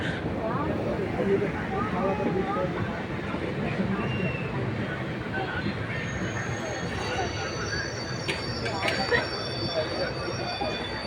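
Passenger train running at speed through forest country between Palakkad and Kozhikode, a steady loud rumble of wheels on rail with brief high squeals near the end, with no talk heard.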